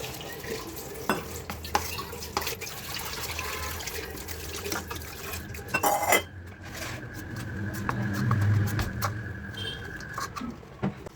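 Pakora batter with salt, baking soda and turmeric being mixed in a kitchen, giving a steady wet stirring and squelching with occasional knocks against the bowl, close and continuous.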